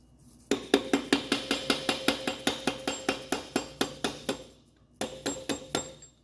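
An aluminum or brass hammer strikes a pinion yoke on a Camaro 12-bolt rear end in a steady series of about twenty sharp metallic blows, a short pause, then a few more.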